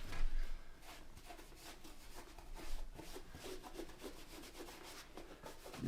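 Leather conditioner rubbed by hand onto a leather shoe, a soft, steady scuffing and brushing that repeats in quick strokes, close and quiet with no voices.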